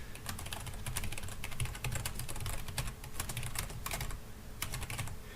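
Steady, fast clatter of keys on a computer keyboard while typing in Microsoft Word, close up, continuing throughout with small pauses and no voices.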